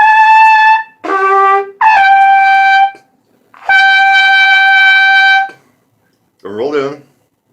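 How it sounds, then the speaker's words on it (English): A trumpet sounds several sustained, forced and strained notes with a roll-in embouchure but no tongue arch, separated by short gaps, followed by a brief buzzy fragment at the end. "the hallmark of somebody who is not doing the tongue arch properly is a very forced and strained sound"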